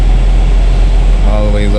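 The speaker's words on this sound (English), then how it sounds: "Put this AC on. It's hot." Loud steady blowing hum of a car's air conditioning running with the engine idling, a broad constant wash with a rising tone near the end.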